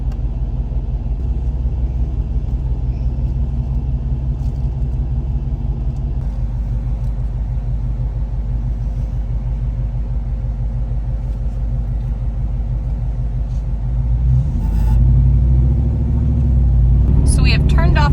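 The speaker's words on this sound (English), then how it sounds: "So we have turned off onto a gravel road" A Jeep drives along a gravel road in the Loess Hills, with a loud, steady engine and tyre rumble filling the whole stretch and a brief clatter near the end.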